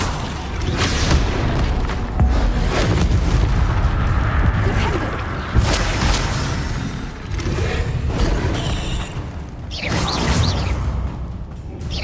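Bombarda spell blasts in Hogwarts Legacy gameplay, a run of loud booming explosions and whooshes repeating over a dense, continuous battle din.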